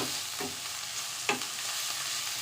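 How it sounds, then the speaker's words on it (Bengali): Ground spices, salt and ground dried red chilli for katla fish kalia are mixed and sautéed in a pan with a soft, continuous sizzle and a few distinct spatula scrapes and knocks. "এটাকে একদম মিক্স করে নিতে হবে ভালোভাবে করে, একটু 5 থেকে 7 মিনিটের জন্য এটাকে কষিয়ে নিতে হবে"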